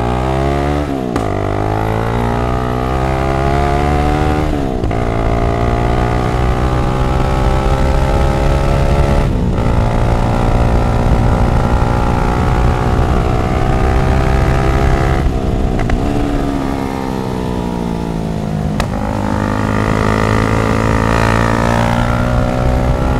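A Chinese sport motorcycle is ridden through corners, its engine droning loud and close for the whole stretch, with several rises and dips in pitch as the rider rolls off and back on the throttle.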